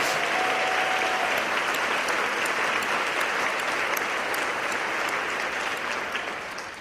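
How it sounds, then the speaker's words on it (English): Sustained, dense applause from a luncheon audience at an Employee of the Year event, holding loud and even for several seconds before it starts to fade. "a round of applause for our 2018 Employee of the Year"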